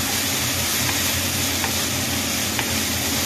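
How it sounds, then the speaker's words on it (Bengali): Chicken, about a kilo, fries in a pan with garlic and green chili paste for a curry masala, a loud, dense, continuous sizzle up close with faint stirring scrapes. "কিছুক্ষণ ধরে ফ্রাই করবো।"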